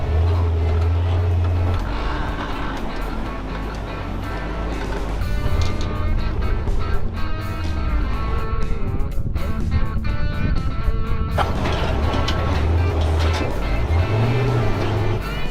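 A bus grinding slowly over a rocky wilderness road, rock crawling toward a river dip, its engine a steady low drone with rumbling and jolting bumps throughout, loud and close.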